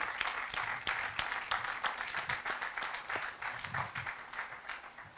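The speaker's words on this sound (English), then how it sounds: "let us give the staff really the applause that they did for this particular project" An audience at a Metrolink light-rail station grand opening ceremony claps for the project staff, a sustained round of applause with distinct individual claps, fairly distant and moderate in level, with little talk.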